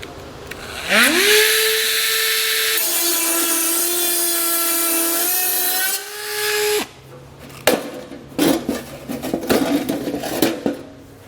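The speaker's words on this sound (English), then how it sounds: "what I'm going to do is just use my cutoff wheel and get that part cut out as well" A cutoff wheel slices through the heat shield of a 2020 Ford Explorer, a loud, high whining grind that holds steady for several seconds, dips, then stops, followed by scattered metallic clatter and handling noises.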